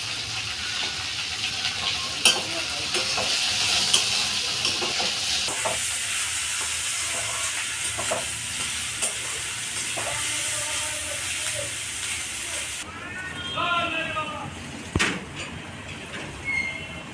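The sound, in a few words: chopped onions frying in oil with cumin and bay leaf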